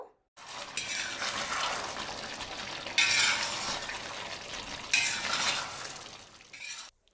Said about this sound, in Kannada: ಈಗ ಒಂದು ಸತಿ ನೀಟಾಗಿ ಮಿಕ್ಸ್ ಮಾಡಿಕೊಟ್ಬಿಡಿ ಪೀಸ್ ಅನ್ನೋದು ಕಟ್ ಆಗ್ದಿರ ನಿಧಾನವಾಗಿ ಮಿಕ್ಸ್ ಮಾಡಿಕೊಳ್ಬೇಕು